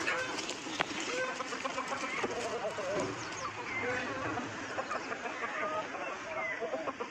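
Free-ranging gavran chickens on a farm cluck and call steadily, with goats nearby and people talking over the flock throughout.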